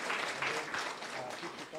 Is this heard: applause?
yes